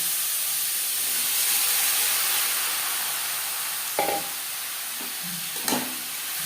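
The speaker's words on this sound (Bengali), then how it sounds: "এবার দিয়ে দেবো ম্যারিনেট করে রাখা থোর।" Marinated banana stem goes into a pan of browned frying onions, giving a steady loud sizzle and hiss with a couple of brief clinks of a stirring utensil near the end.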